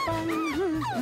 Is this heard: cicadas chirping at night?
no